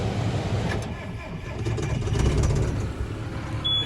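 A tractor engine cranks and catches, settling into a loud, steady low rumble close by.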